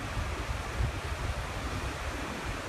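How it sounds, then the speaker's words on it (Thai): Steady rushing surf of ocean waves, mixed with low wind rumble against the microphone, with no voices. "ได้ยินไหมฮะเสียงคลื่น เสียงคลื่นพัดผ่าน"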